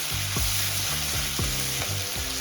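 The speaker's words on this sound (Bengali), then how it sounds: "এবার চিংড়ি মাছটা দিয়ে দেবো।" Prawns hit hot oil in a pan with ginger paste for a Bengali banana-flower prawn dish, giving a loud, steady close sizzle with crackling bursts and utensil scrapes, no voices.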